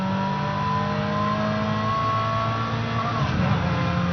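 A car engine in the racing video game Midnight Club LA revs hard toward the redline, a steady loud whine with rising and falling tones, briefly dipping near the end as it shifts.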